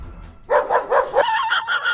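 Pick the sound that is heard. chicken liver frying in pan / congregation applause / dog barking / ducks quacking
dog barking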